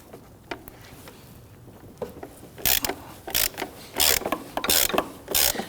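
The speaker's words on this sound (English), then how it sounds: "We're going to use a 36mm socket and extension. I'm going to go down there and loosen that." A ratchet with a 36mm socket and extension loosens the oil filter lid on a Volvo XC60, giving quiet clicks at first and then several loud bursts of rapid ratcheting, close and alone.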